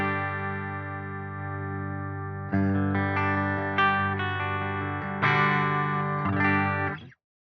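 Electric guitar on the clean channel of a Neural DSP Soldano SLO-100 plugin rings out a sustained chord, then several more strummed chords that decay, close and clear before stopping abruptly.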